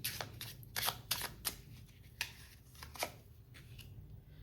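A playing card is drawn and handled from a deck with quick, crisp papery flicks and snaps, several sharp close clicks spread over a few seconds, faint and without talking.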